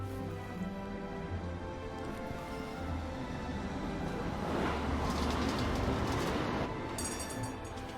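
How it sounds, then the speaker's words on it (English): A tram pulls in within the Syberia: The World Before game world, a steady rumbling rail drone with layered tonal hums that swells toward the middle and then eases as it arrives, heard alone. "But here's our tram."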